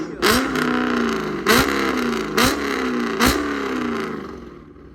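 A Chevrolet Camaro SS V8 fitted with aftermarket headers revs up sharply four times at close range, each rev a loud bark and falling growl before easing back to a rumbling idle.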